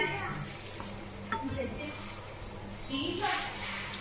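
Beaten egg spread in a pan cooks with a soft steady sizzle, close by, with light stirring noises and a voice talking over it.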